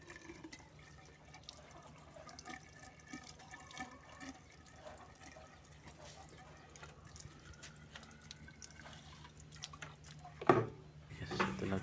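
Water poured and filled into the pipe of a water pump that struggles to draw water, a faint trickling and gurgling run that builds into a louder splashing rush near the end, with no talking.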